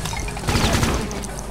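Weapons fire in Brutal Doom Eternal running on GZDoom, a short, loud, dense barrage of overlapping shots and impacts with a heavy low thump in the middle.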